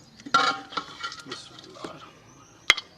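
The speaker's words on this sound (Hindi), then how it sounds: "अब इसे डिश आउट कर लेते हैं, एक बर्तन में डाल लेते हैं।" Cooked degi-style mutton being dished out of a pot into a serving vessel, with close scraping and clinking of a ladle against metal, softer shuffling between strokes, and a sharp bright clang near the end.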